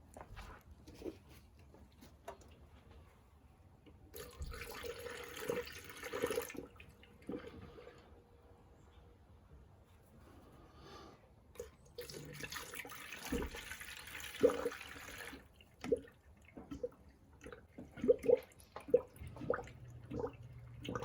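Deionized water poured from a jug into the coolant reservoir of a 2000 Toyota Sienna, a soft steady trickling and gurgling in bursts with quiet pauses, close by and fairly faint.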